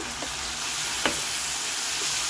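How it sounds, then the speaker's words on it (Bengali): Ground turmeric, cumin and coriander powder fry in a pan with a steady, close sizzle, broken by a single brief scrape of stirring near the middle. "1 চামচ হলুদ গুঁড়া, এরপরে 1 চামচ জিরা গুঁড়া, 1/2 চামচ ধনিয়া গুঁড়া এখানে দিচ্ছি"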